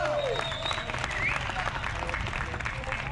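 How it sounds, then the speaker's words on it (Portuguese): An audience at a Brazilian poetry soirée applauds in a steady, dense wash of clapping lasting a few seconds, fairly distant, with voices mixed in. "Palmas para o Victor Hugo!"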